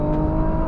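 A Nissan GT-R NISMO's turbocharged engine, with turbochargers taken from a GT racing car, revs in a steady, loud, close whir and rumble for under a second, with no voices.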